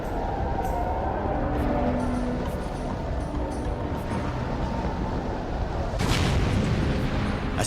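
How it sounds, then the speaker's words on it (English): A deep, continuous rumbling roar of a volcanic eruption, with a heavier booming second explosion near the end, loud and dense throughout. "A second explosion hurled gas and rock 18 miles high into the stratosphere."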